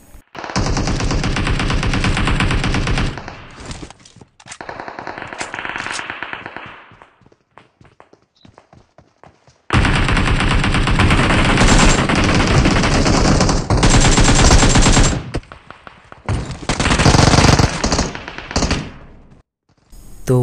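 Bursts of AKM assault rifle fire in PUBG Mobile, loud rapid automatic volleys in several long strings separated by short pauses and quieter stretches.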